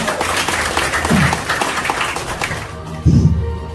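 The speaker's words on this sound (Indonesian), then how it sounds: "Tepuk tangan buat PT Gor ya" An audience at a business presentation applauds for PT Gor, a dense patter of clapping that runs for a few seconds, with a brief voice cutting in near the end.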